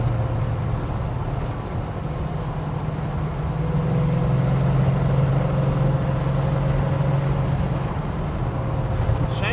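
Holden HK "The Boat" automatic cruising at about 70 mph, a steady low engine and road drone with a faint whine from a worn transmission running continuously underneath, close and even throughout.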